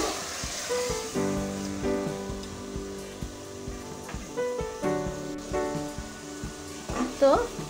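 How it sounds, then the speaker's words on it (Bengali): Mutton sizzles in a hot pan as it is fried down into kosha over high heat, a crackling, spattering hiss with intermittent scraping stirs and faint tonal hum in the background. "এখন আমি হাই হিটে কিছুক্ষণ কষিয়ে নেব।"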